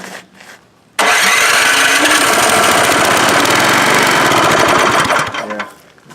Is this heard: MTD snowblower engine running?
yes